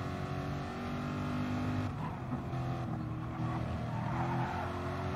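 A Corvette race car engine in a racing game at Monza, steady and fairly loud, rising and falling through gear changes and shifting pitch mid-run as it works through corners.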